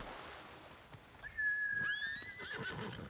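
A horse in Ghost of Tsushima gives a fairly faint, high, drawn-out whinny that wavers and trails off over about a second and a half, with soft hoof and ambient game sounds around it.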